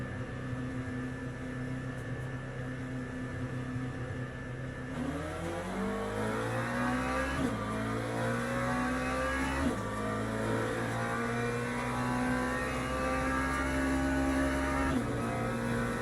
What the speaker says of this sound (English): we've got a track full of